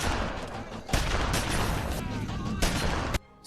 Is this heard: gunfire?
yes